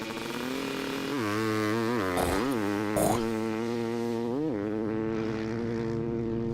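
A small Yamaha two-stroke engine runs close by with a steady buzzing drone. It revs up and down a few times, blipping near the middle, then settles back to a steady idle.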